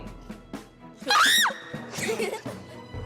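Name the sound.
children screaming and yelping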